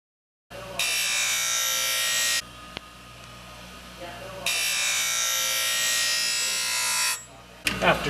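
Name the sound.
skate blade being sharpened on a sharpening machine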